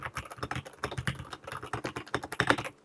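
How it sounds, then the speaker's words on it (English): Typing on an Epomaker EK68 clicky mechanical keyboard: a steady, fairly fast stream of sharp clacking keystrokes, close and moderately quiet, with uneven rhythm and occasional heavier presses, alone without talk. "I'd rather hear the sound of a keyboard"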